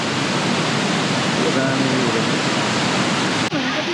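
Bung waterfall in Manang, a steady broadband roar of falling water that fills the whole clip at constant loudness, with faint voices briefly audible beneath it.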